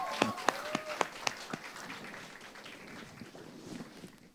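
Audience applause for the lyricist called onto the stage at a press event for a song, scattered sharp claps at first, then settling into a softer, steady patter of clapping that fades slightly.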